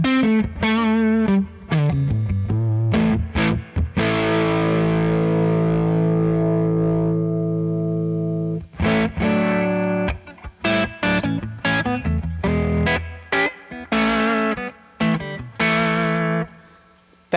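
An electric guitar runs through a Throbak pedal in silicon mode, playing loud, close distorted riffs and chords with a long sustained ringing chord in the middle, and no voices.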